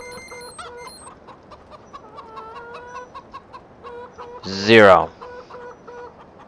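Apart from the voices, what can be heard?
chickens clucking in video game Farming Simulator 2013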